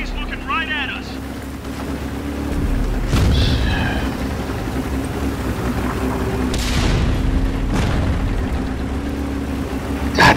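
Tank cannon fire in the video game World of Tanks, with deep booming shots and rumbling engine noise while a player talks over the action.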